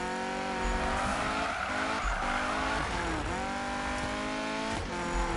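Car drifting in the racing video game Need for Speed, with continuous loud tire squeal and skidding over a steady engine roar, pitch sweeping as the slide shifts.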